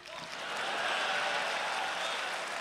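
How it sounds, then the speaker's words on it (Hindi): Audience clapping at a stage performance of Hindi/Urdu poetry, a soft smattering that swells after a brief moment into steady applause heard from a distance. "ताली बजाइए।"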